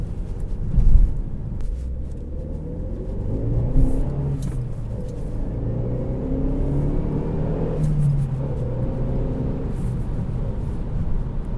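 Renault Mégane driven on the road, engine rumbling and revving as it accelerates through gears, a low steady drone from inside the car with surges in pitch, no talk.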